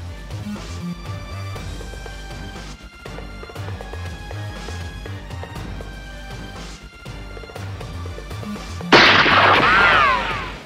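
Rapid bursts of gunfire over a dense, pounding background, ending in a loud sustained crash of noise near the end.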